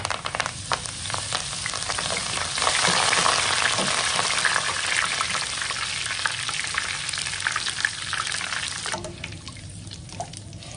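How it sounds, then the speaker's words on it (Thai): Steady loud sizzling of holy basil leaves frying crisp in a pan of hot oil, crackling continuously for several seconds before dropping off near the end. "ตั้งกระทะน้ำมันให้ร้อนได้ที่ค่ะ จากนั้นเราจะทอดกะเพรากรอบไว้ก่อนนะคะ"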